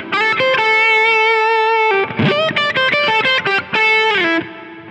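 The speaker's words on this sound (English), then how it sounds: "do you hear how the reverb tails are clean now" Distorted electric guitar on a Line 6 Helix with the reverb placed after the distortion, playing a run of loud, sustained notes and choppy repeated stabs, then ending on clean reverb tails that decay quietly.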